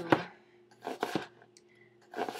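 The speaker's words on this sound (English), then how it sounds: "So I'm just going to slice it really thin" A knife slicing a carrot thinly on a cutting board, with several crisp chopping taps in uneven groups, close and fairly quiet with no talk.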